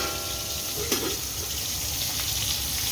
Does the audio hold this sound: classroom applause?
no